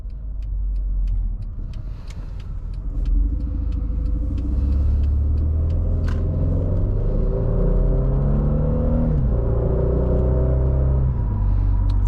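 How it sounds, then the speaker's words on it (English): A 2015 Mercedes-Benz E 350 exhaust rumbles deeply from inside the cabin while driving, a loud steady low drone with engine tones rising and falling as it shifts through gears. "you can really hear that exhaust in here. It's like you can feel that rumble."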